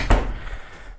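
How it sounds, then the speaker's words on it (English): A door closes with one sharp thud at the start while old wall-to-wall carpet is being ripped out in a home, followed by quieter room noise; no one talks. "All right, close this door."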